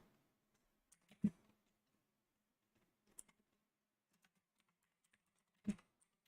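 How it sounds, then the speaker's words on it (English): Typing on a computer keyboard, sparse, faint key clicks spread out over several seconds, with a couple of louder isolated keystrokes in a quiet room. "let's get the SPY and QQQ typed out."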